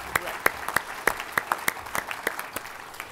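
A small graduation-ceremony audience claps with sparse, distinct hand claps at an uneven rhythm, each clap sharp and close, with no cheering or talk.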